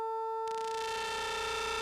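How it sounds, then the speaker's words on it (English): A handmade wooden synthesizer gives off heavy feedback: steady, pure, high-pitched tones ring alone, then a dense, hissing wash of distortion joins them partway through and holds to the end. "A lot of feedback, you can hear it."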